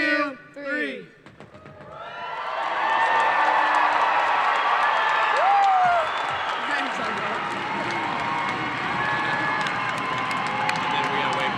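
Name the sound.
graduation crowd cheering after tassel turning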